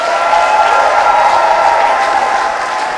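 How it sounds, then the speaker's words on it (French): A church congregation at a Sunday Mother's Day service applauding loudly, a steady wash of clapping from a large crowd with no pauses. "les femmes, acclamez-vous fort pour le Seigneur"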